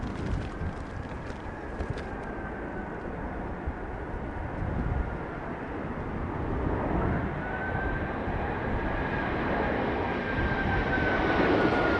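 An Airbus A380 airliner passes overhead with a loud, sustained engine roar and a rising-then-falling whine, steady and broad throughout and heard from the ground outdoors.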